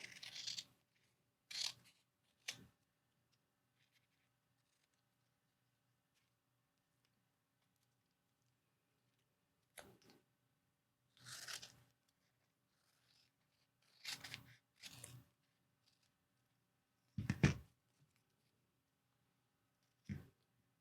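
Scissors snip through watercolor paper to cut out a leaf shape, in several short bursts of close, crisp cutting separated by long quiet pauses.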